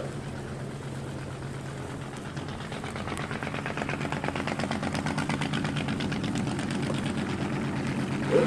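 A 1963 drag racing car engine runs with a rapid, buzzing mechanical rattle that builds and grows louder over several seconds, heard at a distance with no talk.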